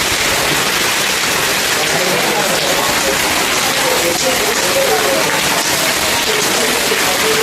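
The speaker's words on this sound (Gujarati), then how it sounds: "અત્યારે તો જબરજસ્ત ફૂલ વરસાદ ચાલુ થઈ ગયો." Heavy rain pours down in a steady, dense roar over a city after hours of downpour, loud and unbroken throughout with no clear gaps.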